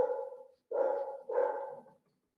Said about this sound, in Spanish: Mi perrito que está muy enojado.